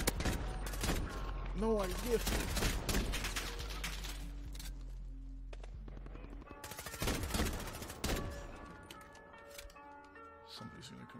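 Pistol and other gunfire in a Modern Warfare multiplayer match, sharp shots and bursts in clusters at the start and again near the middle, with a person talking briefly between shots and game sounds in the background.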